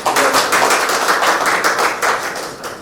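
A gathering hall fills with loud, close clapping from a crowd, steady and rhythmic throughout, slightly thinning toward the end.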